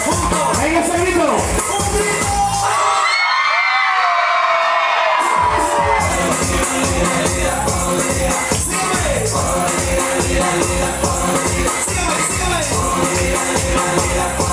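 A big crowd of children at a party shouts and cheers loudly and continuously, whooping with a brief lull partway through before the noise swells again.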